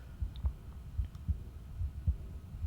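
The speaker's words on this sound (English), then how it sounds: "I love how it's just like only the heartbeat you can hear as well." A steady heartbeat sound effect from the TV series Echo, soft low thumps in a regular double-beat rhythm repeating about five times, heard alone with no talk over it.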